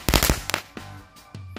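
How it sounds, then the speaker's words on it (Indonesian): A purple dino-egg firecracker going off outdoors at night, a cluster of sharp crackling pops up front followed by a few scattered later bangs, loud and close with no talking. "malam ini kita nyalain mercon telur dino pretek yang warna ungu"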